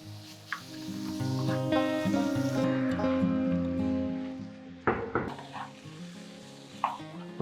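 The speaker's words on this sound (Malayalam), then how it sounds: "ഇതിലേക്ക് നമുക്ക് ചിക്കൻ ഇട്ട് കൊടുക്കാം." Chicken pieces hit a hot pan for a potato chicken curry and sizzle steadily, with stirring scrapes and a few sharp clinks of the utensil against the pan.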